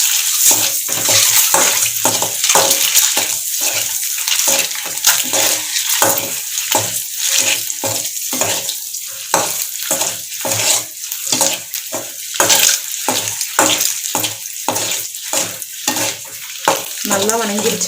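Egg masala being stirred in sizzling oil in a pan, with loud, rhythmic scraping strokes of the spoon over a constant frying hiss.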